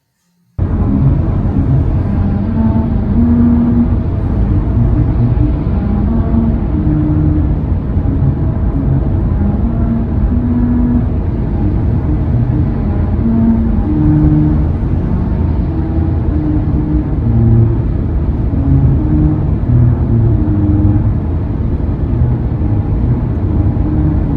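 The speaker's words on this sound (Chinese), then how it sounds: "当车子以一定的速度驶过时，轮胎与路面的纹路会产生共振，听起来就像一段旋律。" Car tires rolling over a grooved musical road in Hungary produce a loud, steady droning hum with sustained tonal notes shifting in pitch like a melody, continuous for over twenty seconds.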